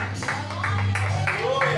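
A church congregation claps together in a slow, even rhythm of about five beats, with a low hum underneath and a voice speaking over the claps.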